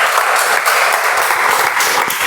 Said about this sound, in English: Can we have a better round of applause for Toastmaster Abhishek